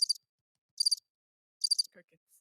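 Crickets chirping as a comedic sound effect, three evenly spaced bright, high trills in near silence, followed by a few faint soft sounds.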